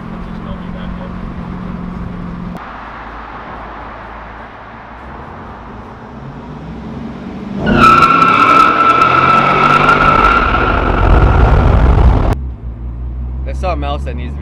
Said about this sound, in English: Maybe I'll do a launch.